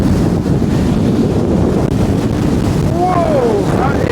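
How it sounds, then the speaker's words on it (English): Strong gusts from Storm Floris batter the microphone in a steady, roaring rumble during an outdoor walk, with a few brief whistling tones rising near the end. "Whoa, that is some wind."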